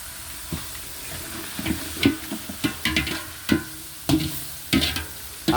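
Jackfruit pieces fry in hot oil with a low, steady sizzle, broken by irregular clinks and scrapes of a utensil against the pan.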